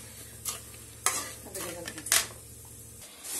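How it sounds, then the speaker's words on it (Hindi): Sugar and water being stirred in a pan over high flame to make syrup for coconut barfi, a few distinct scraping strokes against the pan over a low steady hum, fairly quiet and with no talking. "इसको हम अच्छे से मिलाते हैं और थोड़ा सा पानी और इंक्लूड करते हैं इसमें।"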